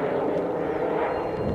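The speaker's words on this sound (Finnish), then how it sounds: "mikä lentokone sieltä saatiin vielä" An airplane passes overhead with a steady, broad, droning roar that holds at an even loudness throughout, with no voices over it.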